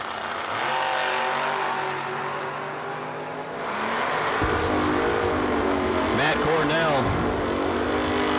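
A third generation Camaro drag race car roars down the strip at a drag racing event, a loud sustained engine howl with shifting pitch, joined partway by a second engine sweeping up and down, while a voice talks over it.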